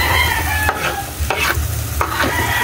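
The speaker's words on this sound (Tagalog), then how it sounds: "Ilagay po yung bawang." Garlic frying in a hot pan, with a steady loud sizzle and three or four sharp scrapes of a spatula stirring, close up and without voices.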